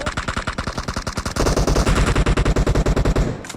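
Rapid automatic gunfire from the video game PUBG Mobile rattles in long, evenly spaced bursts, loud and close, with the rounds growing heavier partway through and no talk over it.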